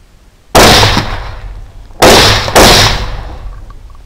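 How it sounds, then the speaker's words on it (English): Three sharp rifle shots from a 6.5 Grendel firing Hornady SST 129-grain ammunition during a night thermal hog hunt, loud and close: a single crack, then a pause, then two quick shots, each with a trailing echo. "the second hog did not appear to be hit by any of the three shots fired"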